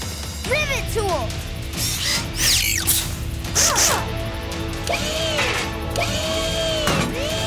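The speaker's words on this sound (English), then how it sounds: "Rivet tool." A cartoon rivet tool fastens construction girders together in a burst of rapid mechanical clanks and ratcheting hits. Whooshing effects and bright chirpy sounds mix in, alongside busy animated sound effects.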